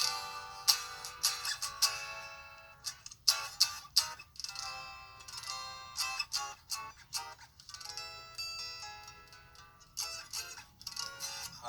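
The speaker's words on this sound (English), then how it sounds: "Just strumming some chords." Clean chords are strummed on a 2020 Gibson Les Paul Special in TV Yellow with dual P90 pickups, in repeated sharp strokes that ring and decay, played close and alone with no talk.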